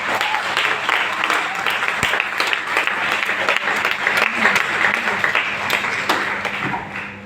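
A large audience at a motivational speech in Patna, Bihar claps in a sustained, dense round of applause, even and fairly loud throughout, with a few sharper individual claps standing out from the crowd.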